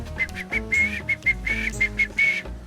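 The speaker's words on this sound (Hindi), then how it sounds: "अब बजाओ सीटी।" A whistle is blown in a series of short and longer shrill blasts over a musical background, repeated rhythmically at close range.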